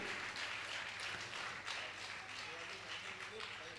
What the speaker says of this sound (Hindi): जोरदार जोरदार करतल ध्वनि से ये आपकी तालियों की आवाज वहां तक पहुंचना चाहिए